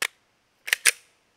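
Three sharp, close shots from a USP pistol firing SMB 10mm ammunition: one crack, a pause, then two quick shots with a brief ringing tail, no talk.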